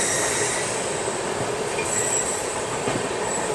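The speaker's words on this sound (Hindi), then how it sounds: "WAP5 locomotive," An Indian Railways train hauled by a WAP5 electric locomotive runs steadily on the rails near New Delhi, a dense continuous roar of wheels with high squealing, heard close and without speech.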